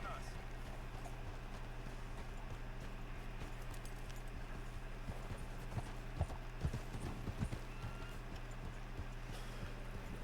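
Horse hooves clip-clopping as a rider moves off in a video game, soft irregular thuds over a steady low hum, picking up with a few louder hoofbeats toward the end while voices talk.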